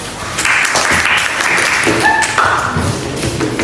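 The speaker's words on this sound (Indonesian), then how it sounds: "Tepuk tangan." Classroom applause from students after a pupil answers a math problem correctly, a burst of dense clapping that fills the room for a few seconds.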